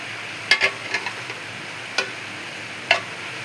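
Taro stolons are stir-fried in a pot over a soft, steady sizzle, broken by a few sharp scraping clicks of the stirring spoon, with no one talking.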